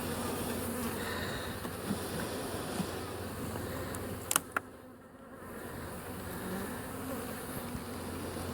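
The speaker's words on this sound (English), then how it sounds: "A lot of bees." Many bees buzzing around a hive after a storm, a steady, dense hum that continues throughout, with a few sharp clicks near the middle.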